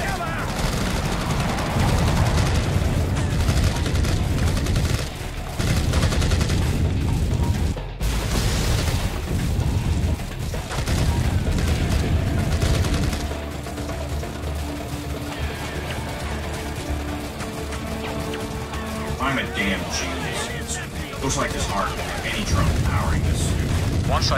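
Sustained bursts of rapid gunfire and booming impacts in the Iron Man video game, loud and dense, broken by brief pauses and mixed with mechanical clanks and a low rumble.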